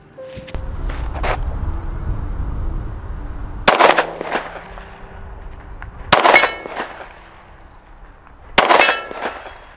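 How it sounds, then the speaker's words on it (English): Smith & Wesson M&P 10mm pistol fired at a 50-yard steel target outdoors: four loud, sharp shots spaced a few seconds apart, each with a short ringing tail, over a low background rumble. "50 yard targets, 50 yard steel target, kill zone with a damn pistol"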